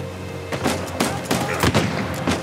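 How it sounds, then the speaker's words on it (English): Enemy grenade launcher firing in Uncharted 4, a series of punchy booming shots at irregular intervals, about six sharp blasts over steady background game noise. "He's got a grenade launcher."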